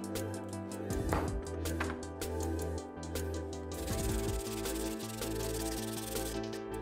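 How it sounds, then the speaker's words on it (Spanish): Rhythmic back-and-forth scraping of sandpaper on a Dana 30 axle part, close and steady, over a constant low mechanical hum. "Incluso un poco de lija también si es necesario."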